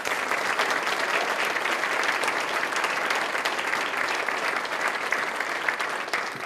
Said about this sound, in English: Let's give one last round of applause to all of this morning's honorees.